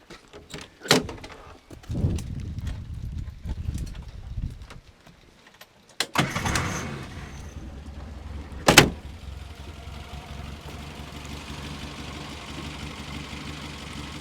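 A car engine cranks and catches after a few scattered clicks and knocks, then settles into a low, steady idle hum that runs alone through the rest of the clip.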